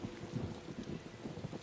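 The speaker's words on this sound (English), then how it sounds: "Man, this thunder's pretty intense, huh?" Rain and rolling thunder from the video game Tales of Xillia 2 make a faint, continuous low rumble with soft patter, steady throughout and with no voices.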